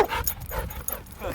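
Dogs at an off-leash dog park, with short panting and whimpering sounds close by and a few soft yips over a steady outdoor background.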